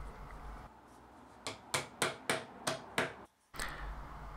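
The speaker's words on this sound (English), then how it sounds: "The dowels can then get put in and are given a little tap in place." Glued wooden dowels are tapped into their holes in a wooden garden planter: about six sharp, close knocks in a quick, even series, each with a short ring, over a quiet room.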